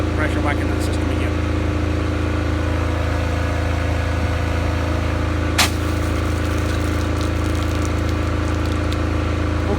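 A bowser's pump engine runs steadily at normal speed with a constant low droning hum and mechanical whine, broken by a single sharp click midway.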